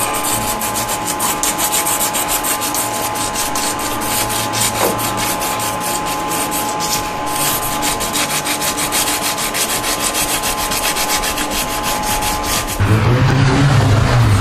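Touch-up paint is sanded and scraped off a car's bodywork in a steady, continuous rasping rub that lasts throughout. It ends in a coarser, louder scraping burst, with no talking.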